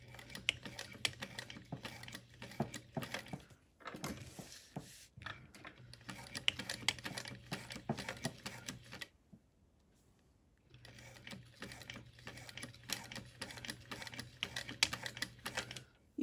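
Sewing machine stitching a wristlet clutch, a fast, even mechanical chatter close by in three long runs separated by short pauses, the middle one nearly silent.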